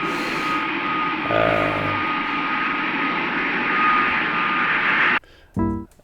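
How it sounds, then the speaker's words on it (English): A steady, loud roar of an airplane landing sampled in a song, a broad sustained rush with a low tonal hum entering partway, holding for about five seconds before cutting off abruptly into a short tonal musical burst. "Like a plane landing?"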